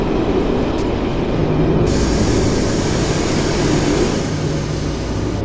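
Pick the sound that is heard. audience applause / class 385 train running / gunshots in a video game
class 385 train running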